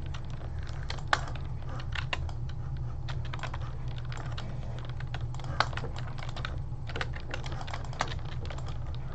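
Rapid, uneven clatter of keys on a computer keyboard during a Fortnite session, close and steady throughout, with bursts of quicker strokes over a low constant hum.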